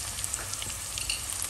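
Ginger garlic paste sizzles in a hot pan for Kerala-style chicken curry, a close, steady crackling fry with faint stirring scrapes and no talk.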